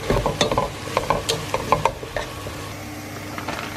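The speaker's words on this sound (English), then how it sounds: "Give it another stir." Chicken stirred in a hot sizzling pan with Worcestershire sauce, salt and pepper, giving a run of close, irregular scraping and clattering stirs over a steady fry that fades to a quieter sizzle toward the end.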